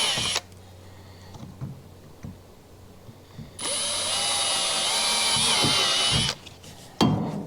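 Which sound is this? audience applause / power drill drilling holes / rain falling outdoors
power drill drilling holes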